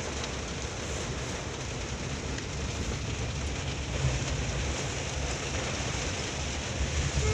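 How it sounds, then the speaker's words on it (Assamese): Steady, fairly loud rain falls continuously, a broad even hiss with dense patter on surfaces throughout, no voices present. "এইটো বৰষুণ দিলে"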